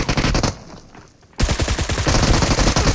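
Gunfire in PUBG Mobile crackles in rapid automatic bursts, loud and close, with a brief lull before the shooting resumes even harder.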